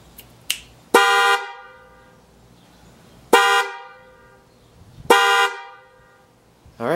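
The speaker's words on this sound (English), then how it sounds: "connected the horn, and I'll give you a test of what it sounds like." Newly installed car horns tested after fitting a grille screen insert: three loud, close honks, each held about a second, plus a brief short toot at the start, over a quiet background.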